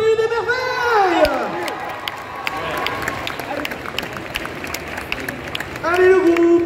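Audience at a Paris manga and sci-fi convention cosplay contest applauding and cheering for an Alice in Wonderland group, a crowd roar with clapping and whoops, music tones sweeping over it and voices mixed in.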